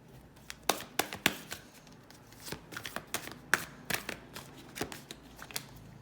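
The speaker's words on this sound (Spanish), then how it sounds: "las voy a barajar en directo." Tarot cards being shuffled by hand, a rapid series of crisp riffling and slapping bursts with soft papery rustle between them, close and clear with no talking.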